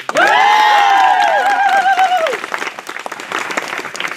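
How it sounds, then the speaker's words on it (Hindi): An audience at a career opportunity programme in Gatadih applauds in honour of a teacher. The clapping is loud and dense, with a long sliding whistle or whoop over the first half, then it thins out near the end. "उनको नमन करता हूँ, उनके लिए भी एक ताली।"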